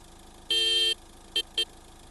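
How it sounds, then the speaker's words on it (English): A vehicle horn in Road Maintenance Simulator gives one sustained honk followed by two short toots, clear and fairly near over a quiet background. "Okay, X to start the engine."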